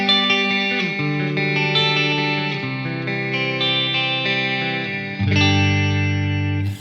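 A clean electric guitar tone, played without effects ahead of an MXR Poly Blue Octave pedal, rings out in sustained chords that shift every second or so, ending on a fuller, louder strum.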